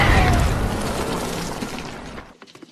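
Mortar shell explosion in a war film, a loud rumbling blast that fills the sound then decays and cuts off abruptly near the end.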